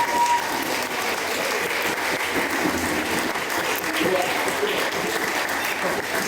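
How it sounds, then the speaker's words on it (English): Loud, sustained applause breaks out among wedding guests during the speeches as the groomsmen are cheered, a thick wash of clapping from a nearby crowd with no break. "I want a massive round of applause from the groomsmen."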